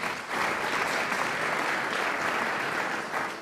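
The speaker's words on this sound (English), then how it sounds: "Let's give him a big round of applause." An audience at a swimming club's annual general meeting and awards evening breaks into a brief, even round of clapping, dense and moderately loud, with no talk over it.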